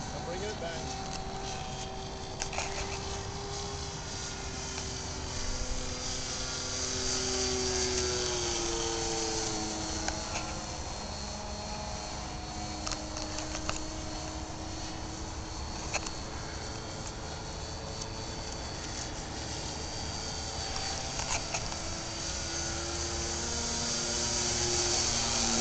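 A model airplane's small engine whines continuously, its pitch rising and falling as it passes, while voices chatter intermittently over it.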